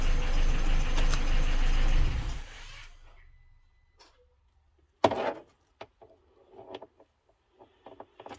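A Peugeot 207cc engine idles for a couple of seconds, then cuts off into near silence, followed by a short crank and scattered clicks and knocks as it restarts.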